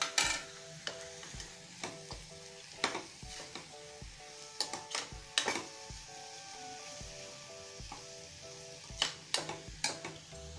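Cabbage and potato sabzi, made with little oil, sizzles steadily in a pan while a spoon scrapes and stirs it in repeated sharp clinks and scrapes, close and fairly quiet, with no talking.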